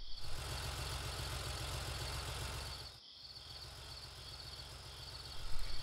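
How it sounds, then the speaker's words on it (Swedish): A cartoon tractor idles with a steady low chugging pulse that dips briefly midway, while a high insect-like chirring hangs over it throughout. "Titta, där är traktorn Ben."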